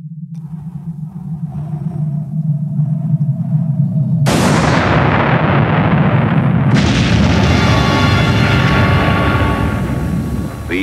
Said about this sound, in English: The atom bomb, spreading its mushroom cloud over Bikini Atoll in 1946